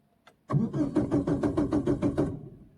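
A car engine cranks and catches at a driving lesson, turning over in a quick steady series of pulses for about two seconds before settling. It is close and loud, with no talking.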